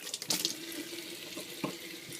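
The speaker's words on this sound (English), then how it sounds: "Yeah, antibacterial wash, generally with 2 hands. Just wash your hands." Running tap water splashes into a kitchen sink during hand washing with antibacterial wash, a soft steady stream broken by brief splashy bursts as hands move under it.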